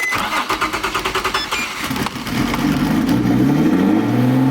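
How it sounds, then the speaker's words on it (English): A single-turbo Nissan 350Z cold starts: rapid rhythmic starter cranking, then the engine catches and settles into a loud, rising high idle close by. "Let's get a cold start."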